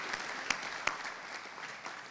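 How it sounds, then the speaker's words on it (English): Audience applause at a community foundation scholarship night, a steady wash of clapping from a crowd with a couple of sharp louder claps standing out near the start. "And one more round of applause for the Burnett Rotary Scholarship Endowment."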